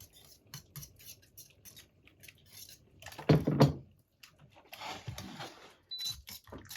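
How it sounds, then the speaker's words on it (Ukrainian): Homemade eggs being stirred into kulish, a Cossack millet porridge, with scattered scrapes and taps of a utensil against the pot, a louder wet stirring burst midway and softer clinks after. "І отак просто до кулішу і вливаємо, розмішуємо."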